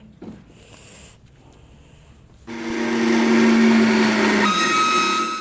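An electric grinder blends marinade paste for barbecued mushroom and chicken, starting abruptly after a quiet stretch with soft clatter and then whirring loudly with a strong steady whine before its pitch drops near the end.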